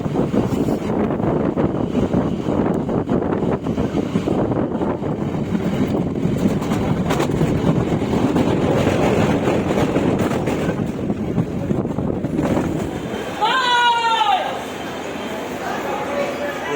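Inside a moving passenger train in the morning, a loud continuous rumble and rushing wind noise fill the cabin, then ease near the end as a brief rising whistle-like tone sounds.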